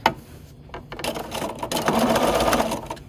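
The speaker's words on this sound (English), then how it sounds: "we're going to backstitch again and take it off the machine" A sewing machine stitches binding onto a quilt, its motor whirring steadily and close, starting in short bursts and then running continuously.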